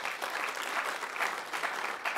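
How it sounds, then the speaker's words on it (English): An audience at a university lecture event applauds, giving a steady, dense wash of clapping from many hands that holds at an even level throughout, without voices standing out. "Give it up for President Holland."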